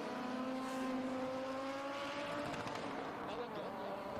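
A 1983-vintage five-cylinder rally car built to full FIA WRC specifications, racing at Pikes Peak, howls as it accelerates through rising gears, heard from a distance in open air with a steady, rasping exhaust note.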